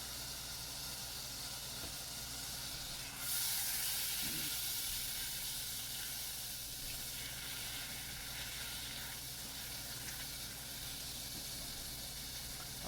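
Half a stick of butter melting in a pan, giving a steady, faint hiss and sizzle that runs unbroken throughout with no talking.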